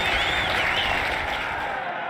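Crowd of students clapping, whistling and stomping in a lecture hall in the video game The Lion's Song, a dense, steady wash of applause filling the whole moment without pause.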